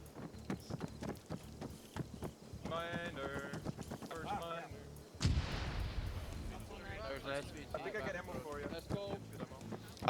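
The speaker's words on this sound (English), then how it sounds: "we're going to start mortaring" Mortar rounds fire and land in an open-world military game set in a Rhodesia campaign, with a heavy booming impact midway and gunfire and hoof-like clatter throughout, under steady voices talking over it.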